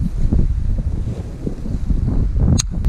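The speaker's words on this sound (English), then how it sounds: "it was windy just like this then" Strong wind buffeting the microphone outdoors at a fishing pond, a continuous low rumbling roar with gusty swells, close and loud, with no talking.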